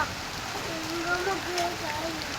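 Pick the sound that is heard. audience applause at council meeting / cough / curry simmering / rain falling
rain falling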